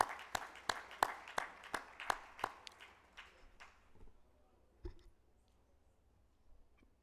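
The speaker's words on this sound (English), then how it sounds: "Please give a huge round of applause for our beloved Bhagawan on his 100th birth centenary." Audience applause at a 100th birthday celebration for Bhagawan Sri Sathya Sai Baba: about a dozen sharp, evenly spaced claps that gradually fade into a few scattered late ones, then near silence.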